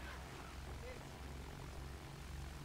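A propeller engine drones from an attack aircraft in Battlefield 1, heard as a steady, dense roar under battlefield noise for the whole short stretch.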